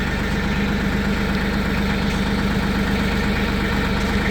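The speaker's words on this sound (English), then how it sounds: "Hop up on the tractor." A tractor engine idles steadily close by, a low, even mechanical rumble with a fine regular pulse and no change in speed throughout.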